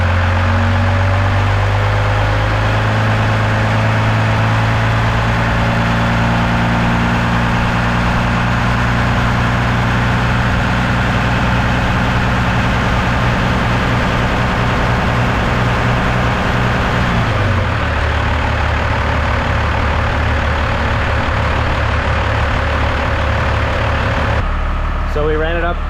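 A diesel truck engine idles at around 730 RPM with a steady heavy low rumble and constant drone. The pitch drops slightly as the revs settle partway through, and the sound stays loud and close the whole time.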